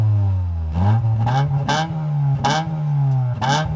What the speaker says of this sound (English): Let's hear the 2 litre in your Eclipse.